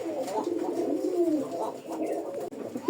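A pair of caged Gola pigeons coo in soft, rolling, repeated calls, close by and clear, with faint background noise and no talking.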